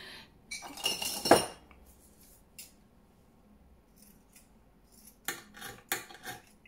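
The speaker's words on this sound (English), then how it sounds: "These scissors aren't very good on lace." Scissors snip through lace in a quiet room, giving a few sharp crunching cuts near the start and another cluster toward the end, separated by near silence.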